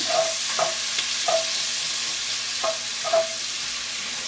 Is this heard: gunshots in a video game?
no